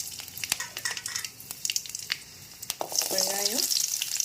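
Garlic cloves frying in hot oil in a pan, a lively crackling sizzle with scattered pops and a brief stirring scrape near the end, close and moderately loud.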